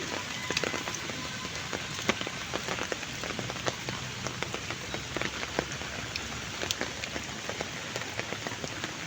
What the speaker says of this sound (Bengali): তো আসার সময় দেখেন বৃষ্টি নামছে, তো বৃষ্টি দিয়ে এখন হাঁটছি।